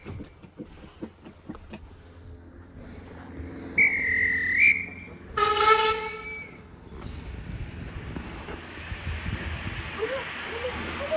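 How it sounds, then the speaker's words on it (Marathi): A 150-year-old steam train pulls away on the Isle of Wight, giving a sharp high whistle blast followed by a second, longer whistle, then fading rumble and hiss as it departs, with faint voices around. "बघू शकता स्टीम इंजिन दूर सोडत चाललंय मित्रांनो"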